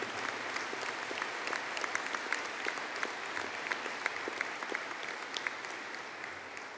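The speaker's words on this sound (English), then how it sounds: "could I just please have a collective round of applause for the Bachelor of Engineering in Computer Engineering" An audience at an engineering graduation ceremony applauds the computer engineering graduates, steady moderately distant clapping that fills the hall evenly throughout.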